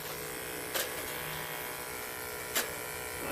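Electric clippers buzz steadily while shaving a buck goat, a close, continuous hum with two brief louder bursts along the way.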